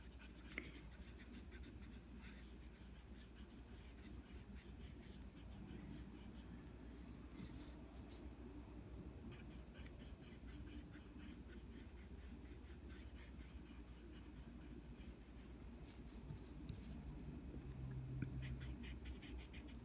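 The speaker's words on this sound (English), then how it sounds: "burnishing with a colored pencil" A colored pencil burnishes paper while drawing a reptile eye, giving a steady, faint scratchy rubbing that continues throughout with small shifts in stroke texture.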